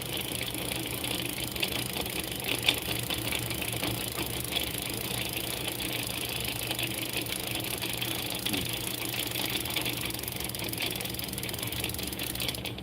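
Hand-cranking a fishing reel to spool braided line, a steady whirring, ticking mechanical drone that runs unbroken and evenly at close range with no talking.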